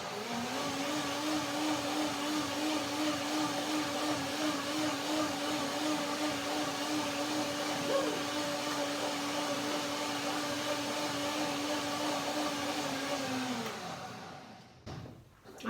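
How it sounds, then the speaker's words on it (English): A blender whirs steadily at a constant high pitch for a long stretch, then winds down and cuts off near the end. "one more blender dance."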